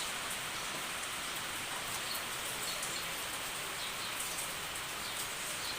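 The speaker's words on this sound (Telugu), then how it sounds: "మా దగ్గర అయితే వర్షం పడుతుంది ఫ్రెండ్స్" Steady rain falls throughout, a soft continuous hiss with faint drops pattering on surfaces and no voices.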